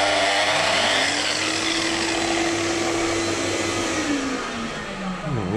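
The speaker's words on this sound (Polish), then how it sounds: "No i od razu zaczyna chodzić odkurzacz" Electric wall chaser cutting grooves in a wall with a vacuum cleaner connected, a loud continuous motor whine and roar held steady and close, its pitch dropping and wavering near the end as the cut slows.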